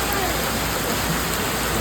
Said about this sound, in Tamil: மழை பாருங்க, கொட்டுது மழை.